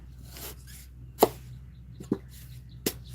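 A knife strikes sweet bamboo shoots in three sharp, separate chops in a quiet setting, with soft handling noises between them.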